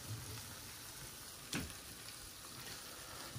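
Beetroot frying in butter in a pan, a quiet, steady crackling sizzle with a single brief louder pop.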